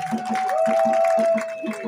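Audience at a village chief's investiture ceremony applauding, rhythmic clapping from a crowd with a sustained tonal hum or horn-like tone running through it and some crowd noise.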